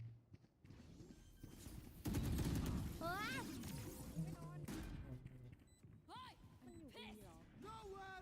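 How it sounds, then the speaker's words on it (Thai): Bursts of gunfire from the video game Valorant, loud and repeated through most of the stretch, with a player's voice talking over the shots. "ยิง ไม่โดนเลย"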